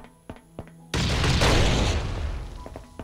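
C4 charges detonate in the survival video game Last Island of Survival: after a few soft clicks, a sudden loud, close, booming blast erupts and rumbles out over about two seconds.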